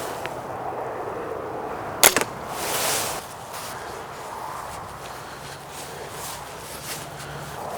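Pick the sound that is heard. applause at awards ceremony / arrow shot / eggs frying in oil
arrow shot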